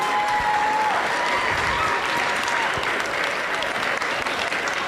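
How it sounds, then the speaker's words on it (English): Crowd applause at a Tahitian fete celebrating the house drummers, a steady dense wash of clapping from many hands that holds for the full stretch without letting up. "One more round of applause for our house drummers."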